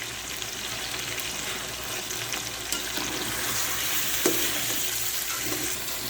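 A steady sizzle of onions frying in a pan for Punjabi chicken biryani, with occasional stirring scrapes and a brief clink, continuous and close without any talking.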